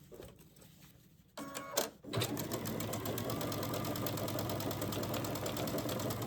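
A sewing machine stitches quilt pieces together. After a few brief starts and clunks it settles into a steady, rapid, close mechanical whir that runs evenly to the end.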